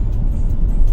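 A Kia Sorento AWD drives toward an orchard plantation, its engine a steady, close low rumble with continuous road noise and no voices.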